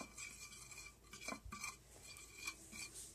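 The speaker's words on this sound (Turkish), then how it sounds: "Evet, sosunu güzelce karıştırıyorum." A spoon stirs the sauce for oven-baked mackerel fillets with vegetables, giving soft, irregular clinks and scrapes against the dish that are quiet and close, with no talking.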